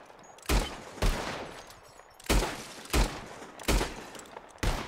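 Revolver shots crack out at bottles in a Red Dead Redemption 2 shooting contest, six sharp loud reports spaced irregularly about half a second to a second apart, each with a short decaying tail, no voices in between.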